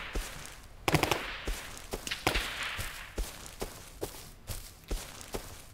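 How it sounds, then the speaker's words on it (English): Sharp gunshots in the video game Rust crack repeatedly at irregular intervals, some in quick bursts, over a constant hiss of background noise. "I am running directly towards the sound of gunshots"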